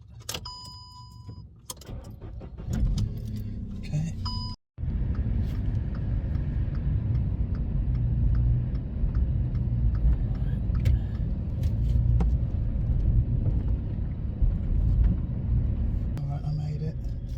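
A faulty car cranks with a jangle of keys, then its engine catches and settles into a steady low rumble that runs on for many seconds, with a brief spoken word near the start.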